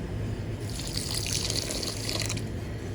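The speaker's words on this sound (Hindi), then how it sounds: "पानी डालेंगे।" Water poured into a wok holding sugar over a lit stove fire, a steady splashing stream lasting about three seconds, close and fairly loud, with no talking.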